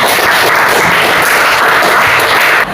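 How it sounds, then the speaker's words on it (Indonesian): A classroom applauding a student, a loud, dense wash of many hands clapping together, steady throughout and then cutting off abruptly near the end. "aplaus untuk teman kalian"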